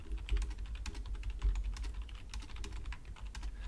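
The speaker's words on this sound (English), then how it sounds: "if I start typing" Fast, steady tapping on a computer keyboard, heard close and alone, with uneven clusters of sharp key clicks over a low background hum.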